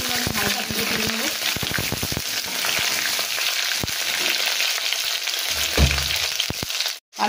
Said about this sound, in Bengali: আলুগুলো আমি হালকা ভেজে তুলে নেব